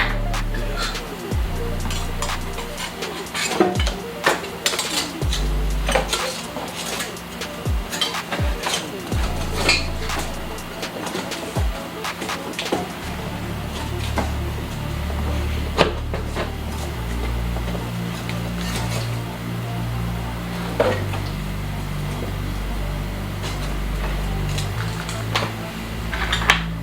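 Metal parts clank and rattle as a turbocharger is fitted and bolted on, with irregular knocks and scrapes over a steady engine-like hum.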